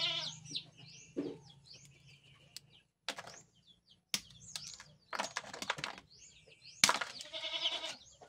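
A goat shut indoors bleats again and again, a string of wavering cries at moderate distance separated by short pauses.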